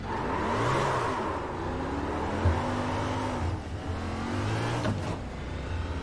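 A race car in the iRacing game, running a Carb Cup race at Talladega, accelerates hard, its engine note rising and sweeping in pitch, loud and continuous, with another car briefly whooshing past.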